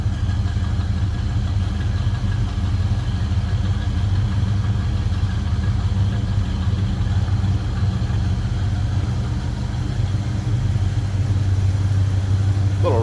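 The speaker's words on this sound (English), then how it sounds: "rumble coming out of that V8." A 1969 Pontiac GTO's 400 V8 idles with a steady, deep, close rumble that holds even and unbroken throughout, with no voices over it.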